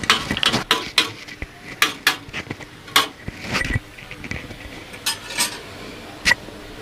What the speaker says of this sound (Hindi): अब इसको इस तरह से हिलाते रहूँगी मैं जब तक ये कढ़ाई से अच्छी तरह चिपकने लग जाए